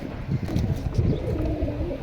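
A female pet pigeon kept in a cage coos in low, soft, repeated murmurs close by, with no voices.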